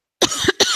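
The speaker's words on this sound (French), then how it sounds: "Je me mets à tousser aussi." Two sharp coughs from one person, close and loud, separated by a short pause, with a brief breathy catch between them.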